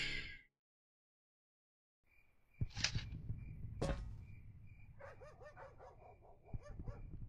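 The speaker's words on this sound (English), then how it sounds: "there's some dogs" Dogs barking in the video game Steam Cleaning, a few sharp barks and yips at moderate distance after a short silent gap, followed by a faint whimpering, overlapping patter over a low background hum.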